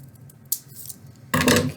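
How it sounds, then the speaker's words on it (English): Scissors snip a small paper tab for a leprechaun hat craft: a short sharp cut, then a louder, longer crunching snip close by, with no voices. "now I'm going to cut out that little tab"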